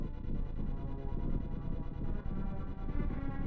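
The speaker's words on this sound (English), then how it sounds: "Now that's the sound of a moving wall." A moving wall in Zelda: A Link to the Past rumbles as a low, continuous grinding throb with a steady pulsing texture, loud and alone for a few seconds.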